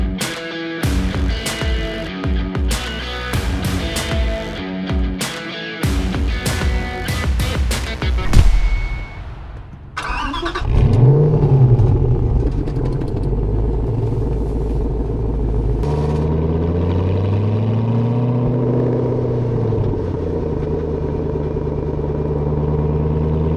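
A 2006 Ford GT engine comes in after a stretch of music, with a loud rev followed by a steady, throaty idle that rises and falls, close to the listener.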